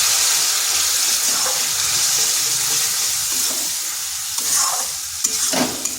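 Spiced masala paste for egg and potato curry frying in a pan with a splash of water, a steady loud sizzle throughout with spoon scrapes and stirring near the end; no talking.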